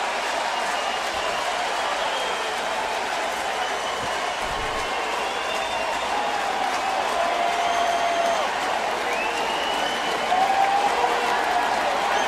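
A packed baseball stadium crowd roars continuously after back-to-back Tigers home runs, a dense, sustained wall of cheering and applause that swells slightly near the end.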